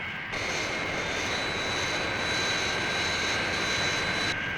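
Fireflash airliner engines roar steadily in flight, a loud continuous jet drone with a high whine running throughout, no talking over it.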